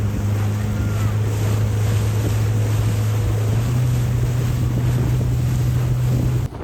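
A motorboat's engine drones steadily on Lake Alakol while wind buffets the microphone, with water rushing past throughout; no one speaks.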